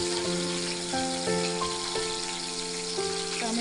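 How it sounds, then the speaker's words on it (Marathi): Chopped tomatoes cook in a pan for a Bombay duck (bombil) curry, giving a steady, even sizzle that runs under tonal background music for the whole stretch. "टॅमॅटो चांगलं थोडंसं शिजू दे"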